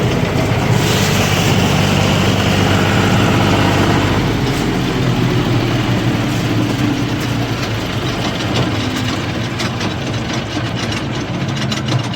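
A tractor engine idles steadily and loudly close by at farm work unloading straw from a trolley, a constant low rumble that softens slightly partway through as it is shut down.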